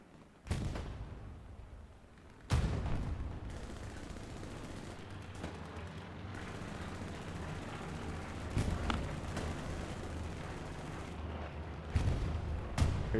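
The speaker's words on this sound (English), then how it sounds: "Artillery is landing back here, I don't know why." Artillery shells landing in a multiplayer war video game scrim, several heavy booming impacts spread unevenly across the stretch, with sharp onsets and rumbling tails over a constant low battlefield din.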